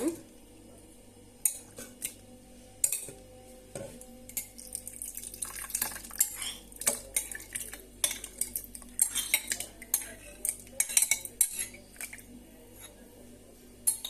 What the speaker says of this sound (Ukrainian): у мене сьогодні варений гарбуз. пересипаю його сюди.